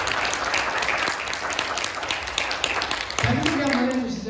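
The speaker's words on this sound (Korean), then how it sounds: "박수 한번 부탁드리겠습니다." Concert-talk audience applauding a flutist, a steady wash of clapping from a crowd that continues throughout, with a host's voice and a low hum joining near the end.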